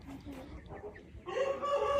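A Shamo rooster crows close by, a loud drawn-out call rising after a moment of quieter background clucking and farmyard sounds.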